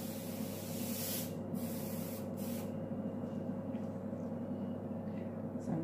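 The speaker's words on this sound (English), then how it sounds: "Just going to spray the butterflies red." A steady airbrush hiss sprays red paint continuously at close range onto a card, with a few brief pauses, over a constant low electrical hum.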